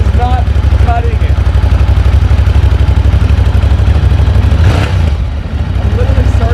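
A Ducati Monster 1200 S motorcycle engine runs loud and close with a steady, throbbing idle, revving briefly partway through, while faint voices are heard underneath.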